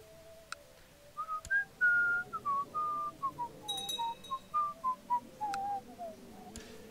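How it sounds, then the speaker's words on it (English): A person whistles a slow, wavering melody alone, clear and fairly close, with a few soft background clicks. "It's probably really painful for me to do this whistling"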